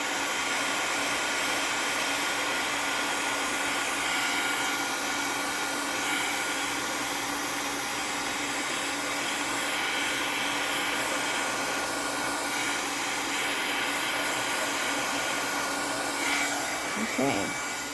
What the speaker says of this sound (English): heat gun. Sorry for the noise.